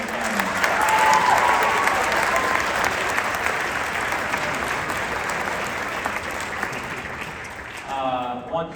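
A school concert audience applauds loudly and steadily for a student band at an academy of the arts winter band concert, the clapping dense and sustained before thinning out near the end as cheers fade.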